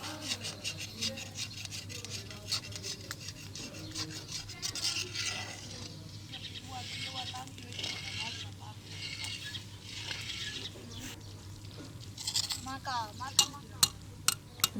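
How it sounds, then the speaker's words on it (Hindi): A spoon scraping and stirring fast through thickening milk in a pot while making Bannu halwa, a continuous rasping rub with occasional metallic clinks, with a voice talking throughout. "आपने इसमें जो है चम्मच तेज़ तेज़ चलाना है ताकि ये नीचे से जल ना जाए"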